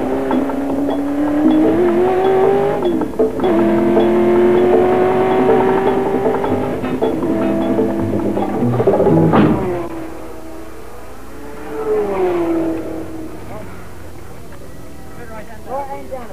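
Race car engines at Le Mans 1968, a loud sustained roar rising in pitch through the gears as the cars accelerate toward the new chicane, fading away, then a second brief engine swell passing by.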